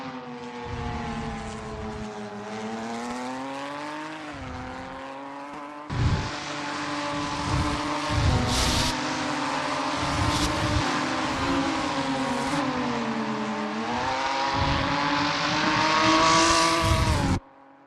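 Ginetta G55 SuperCup race cars lap Donington Park in a racing league. A single engine drones loudly and continuously, its pitch rising and dipping through upshifts and downshifts, with brief lifts around gear changes.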